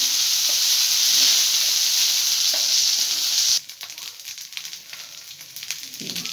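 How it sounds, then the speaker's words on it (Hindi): Garlic ginger paste frying with browned onions in a pan, a loud bright sizzle for several seconds that drops abruptly to softer crackling and stirring. "यहाँ पे हम ये लहसुन अदरक का पेस्ट डाल देंगे इसके अंदर, और इसको हल्का सा फ्राई कर लेंगे।"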